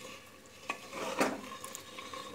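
Carrot halwa with sugar and a little water being stirred as it cooks in a pan, giving a soft, steady sizzle with a few scraping strokes of the spoon, close by and fairly quiet, with no voices.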